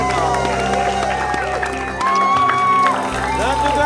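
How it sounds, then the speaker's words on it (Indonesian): An audience in a studio podcast set applauds to welcome the guest Rispo on Kopi Pas Tenan. Steady clapping and some cheering run under music, close and fairly loud. "tepuk tangan dong"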